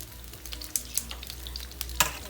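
Onions fry in a pan for maklube rice, making a continuous sizzle broken by sharp scraping clicks as they are stirred and turned, close and clear.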